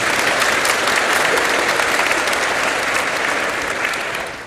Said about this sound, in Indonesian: Kita tepuk tangan untuk kevikepan Semarang.